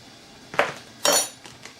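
A fork knocks against a bowl while mixing rice flour and wheat starch, two distinct clinking scrapes about half a second apart with a faint third tap, close and alone.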